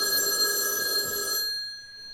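A telephone rings at night on a building's stair landing, its bright electronic bell sounding steadily for about a second and a half before cutting off, leaving a faint quiet tail.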